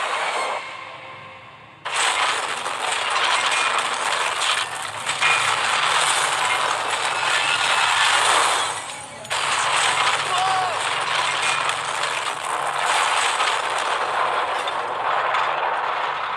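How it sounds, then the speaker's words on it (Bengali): A train rushing fast along the track: a loud, steady rumble and clatter with hissing wind noise, starting abruptly after a quieter opening and continuing with one short dip midway. "ভাই ট্রেন খুব জোরে যাচ্ছে।"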